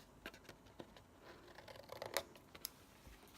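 Scissors snip through cardstock flaps of a mini suitcase box, giving a few quiet, close crisp cuts and light paper rustles spread irregularly.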